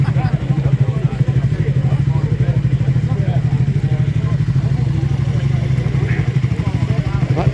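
A Triumph 400 motorcycle engine runs close by with a steady, pulsing low rumble, while people talk over it.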